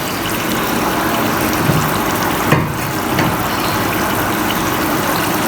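Cauliflower and potatoes go into beef gosht frying in oil: a loud, dense, continuous sizzle that holds steady throughout, with a few small bumps and clatters.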